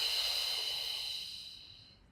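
A steady, controlled exhale through the mouth during a beginner Pilates core workout, a soft breathy hiss that gradually fades over about two seconds with no talking.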